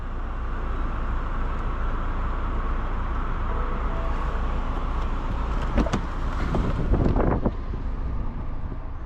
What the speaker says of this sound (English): I'm going to show you what it looks like to open and close the top